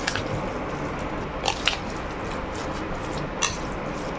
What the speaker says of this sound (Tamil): ஸோ இப்போ நல்லா மிக்ஸ் பண்ணிக்கோங்க.